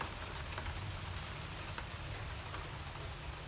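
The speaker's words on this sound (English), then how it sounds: "And guess what? It's raining." Steady rain falls outdoors in a soft, even hiss of drops on surfaces, faint and continuous with no voices.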